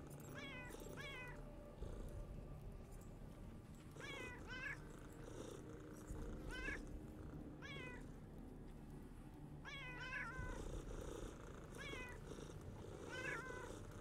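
Several cats in a video game meow in repeated short bursts at moderate loudness, with a low purr beneath them and steady game ambience underneath.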